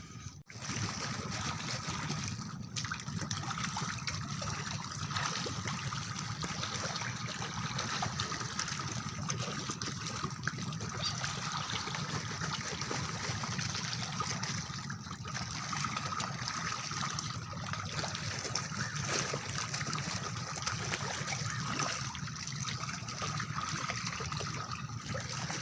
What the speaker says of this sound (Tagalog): Kita nyo naman mga kasampol, yan halos bumabaliktad ng tubig pagkain ng isda